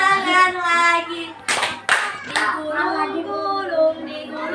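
Three sharp hand claps in quick succession, close and loud, set within a melodic singing voice that carries on before and after them.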